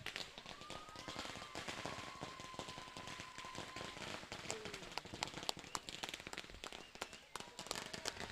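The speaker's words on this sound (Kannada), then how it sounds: "ಅಲ್ಲಲ್ಲಿ ಪಟಾಕಿ ಹೊಡಿತಿರೋದು ಬೇರೆ ಯಾರು ಅಲ್ಲ" Firecrackers burst in a rapid, dense crackling string at a cricket cup closing ceremony, heard faint and distant with an occasional faint voice behind.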